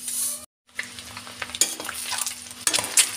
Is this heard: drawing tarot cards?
no